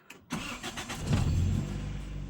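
A Toyota Corolla AE101 with a 4A-FE engine cranks briefly and fires up, settling into a steady, even idle close by, with no talking.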